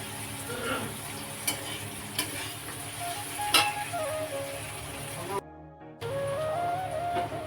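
Tomato and chopped chili fry in a pan with a steady sizzle, stirred with scraping clicks; a brief silent gap cuts in before the frying resumes, with faint talk in the background.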